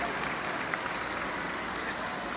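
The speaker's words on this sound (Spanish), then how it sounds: "Un fuerte y caluroso aplauso para todos nuestros jóvenes" A crowd at a secondary school closing ceremony gives graduating students warm, sustained applause: a dense, even roar of many hands clapping without a break.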